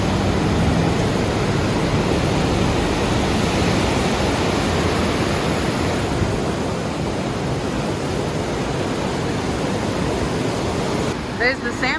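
Roaring rush of a waterfall beside the salmon ladder on a trail in Ketchikan, Alaska: a steady, dense wash of falling water heard close and continuous, with no break in its level.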